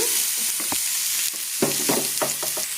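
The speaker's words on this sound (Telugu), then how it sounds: "ఇప్పుడు మనం కట్ చేసుకుని పక్కన పెట్టుకున్న పొట్లకాయ ముక్కలు వేసేసుకోవాలి" Ridge gourd pieces drop into hot oil tempered with dried red chili and curry leaves, a loud close sizzle with a sudden burst as they hit, then repeated spatula scrapes and stirs against the pan.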